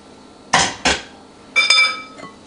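Batter ingredients are tipped from one bowl into a big bowl for waffles, producing two sharp clinks of utensils against the bowls, then a short burst of clattering knocks, close and fairly loud with no talking.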